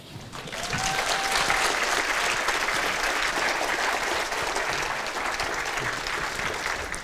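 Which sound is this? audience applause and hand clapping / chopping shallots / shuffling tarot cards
audience applause and hand clapping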